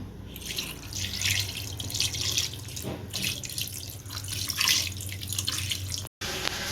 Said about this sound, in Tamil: இப்போ கறி வேகிறதுக்கு தேவையான அளவு நம்ம தண்ணி சேர்த்துக்கலாம்